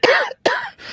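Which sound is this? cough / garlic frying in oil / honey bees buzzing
cough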